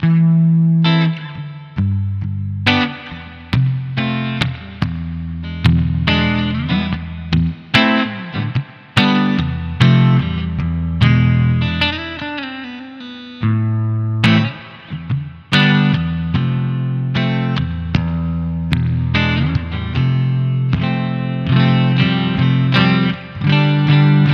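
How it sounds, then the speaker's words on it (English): Electric guitar played through the spring reverb setting of a Nux Verb Core Deluxe pedal with the tweak knob at middle, giving a bright, springy but not very drippy wash over plucked notes and chords, heard alone and fairly loud. "Here's the spring reverb."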